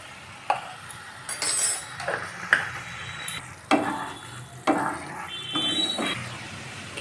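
Kajoli fish jhal spices being sautéed in a pan give a soft crackling sizzle, broken by sharp clacks of a spoon scraping and tapping the pan at irregular intervals, close and fairly quiet, with no talking.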